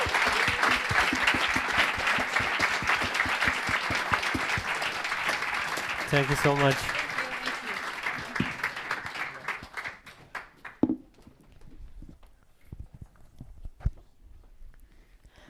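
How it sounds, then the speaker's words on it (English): An audience at an impact investing evening event claps steadily and loudly for about nine seconds, then the applause thins to scattered claps and fades out, with a brief spoken thanks near the end. "I would like to ask for a big, big, big round of applause to these amazing people"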